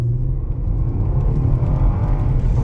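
A 2014 Ford Taurus Interceptor accelerates with traction control switched off, its engine a steady, loud, low rumble that holds close and continuous for the whole stretch.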